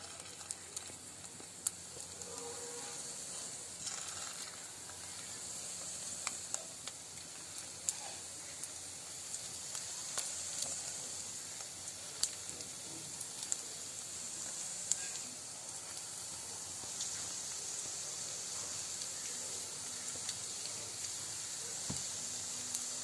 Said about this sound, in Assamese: এটা ইয়াৰ কণী বৰা ফ্ৰাই কৰি লম